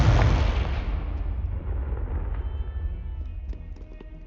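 A Confringo blasting spell in Hogwarts Legacy goes off as a loud, close explosion with a heavy low boom that rolls away into a long decaying rumble, no voices over it.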